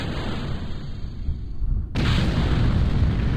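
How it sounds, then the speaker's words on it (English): Rocket engine ignition in Kerbal Space Program, launching RemoteTech relay satellites: a sudden loud, broadband roar cuts in after a quieter hum and holds steady and powerful to the end. "Okay, 3, 2, 1, and ignition."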